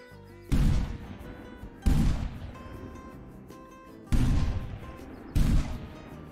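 Four loud shotgun blasts from the Beretta shotguns in Hunting Simulator 2, fired at birds, each a sharp boom with a decaying tail, spaced irregularly over several seconds with no talk.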